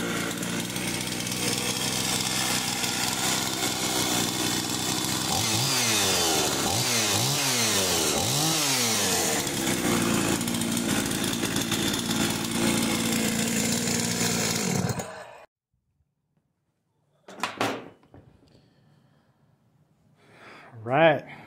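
A Husqvarna 51 chainsaw freshly fitted with a new piston ring runs loud and close for about fifteen seconds with rising and falling revs, then cuts out, leaving a pause and a few short noises.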